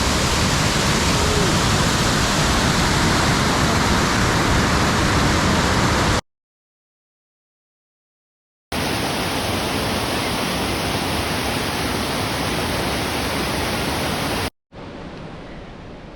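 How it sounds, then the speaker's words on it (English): Loud, steady broadband roar of a waterfall close by, continuous with a cut to silence partway through before the rushing water resumes. "We got the falls. Doesn't get much prettier."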